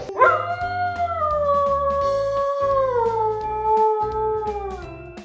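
A dog lets out one long, loud, sustained howl that slowly falls in pitch, close and alone.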